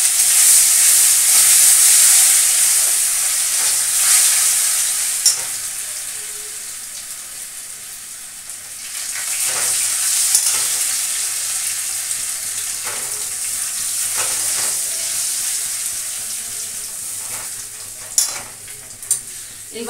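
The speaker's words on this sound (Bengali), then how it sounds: "এবার দিয়ে দিলাম আদা থেতো করে রেখেছিলাম," Crushed ginger fries in hot spiced oil in a pan, giving a loud, steady close sizzle with occasional stirring scrapes and bursts of spitting, and no talk.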